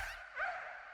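Recorded impact on a rubber inner tire, left unprocessed: a single bright, airy burst with a slight swell midway, close and fairly faint, heard alone.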